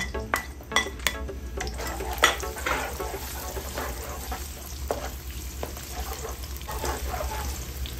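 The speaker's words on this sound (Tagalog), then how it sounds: "Ngayon, magigisa na tayo. Meron tayong bawang sibuyas. Sabayin na natin." Garlic and onion sauté together in a hot pan, a continuous sizzle under frequent spatula scrapes and clinks against the metal, close and lively with no talking.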